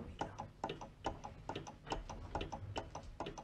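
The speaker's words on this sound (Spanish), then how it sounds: "Me refiero a los relojes, al tic-tac y las campanadas" Clocks in a clock shop tick in a steady, overlapping tick-tock rhythm, close and clear, with no one speaking.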